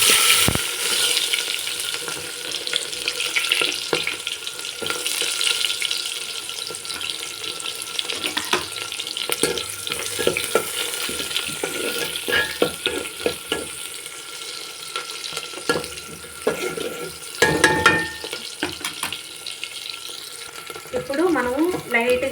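Onion fries with a small piece of cinnamon in a pan for potato curry, a continuous close sizzle broken by repeated stirring scrapes and clatters throughout.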